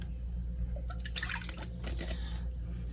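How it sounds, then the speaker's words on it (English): Heavy cream poured into a medium saucepan for crème brûlée, a soft liquid splash and trickle over about a second and a half above a low steady background hum, no speech. "I'm going to use 2 cups of heavy cream in my pot"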